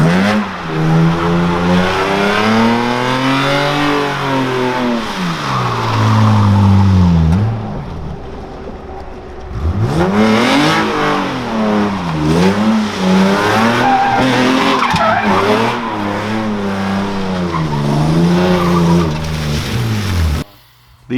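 A car driven hard, its engine revving up and down through strong rising and falling sweeps, with loud tire squeal and skidding over about twenty seconds before a short lull and another hard run.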